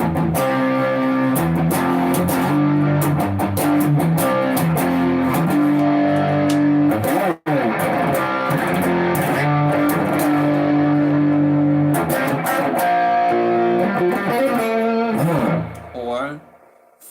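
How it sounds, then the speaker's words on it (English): An electric guitar played improvisationally through a distortion effect, loud sustained chords and notes that continue with a brief dropout midway and fade at the end. "So if you were to add a little distortion, let's see what happens."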